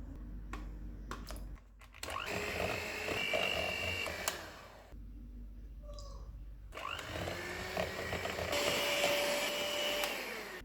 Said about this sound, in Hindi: अब इसमें एक एक अंडा डालेंगे और इसको बीट करेंगे।